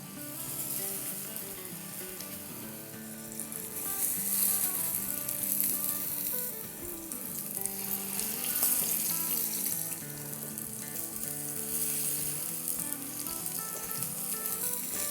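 Breaded chicken patties frying in hot oil give a steady, close crackling sizzle that runs throughout, with small bursts and no talk.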